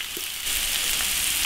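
Pork belly hits an iron wok, a soft clatter followed by a sudden surge of loud, close sizzling that holds steady to the end with no talk.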